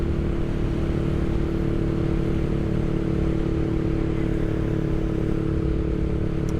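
A Honda Rebel 500 motorcycle engine hums steadily and loudly while riding through a corner, a constant droning tone mixed with rushing wind.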